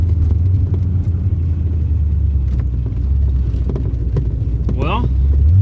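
A 1985 Chevy Corvette driving in second gear, its engine a steady, low, loud rumble from inside the car, with wind noise and a brief squeal near the end.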